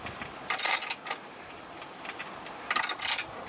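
Nutsert tool turning to tighten a rivet nut on a skid plate under a VW Jetta, with two short bursts of close metallic ratcheting clicks separated by a quiet pause.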